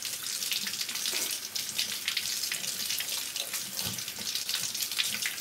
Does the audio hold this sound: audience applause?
no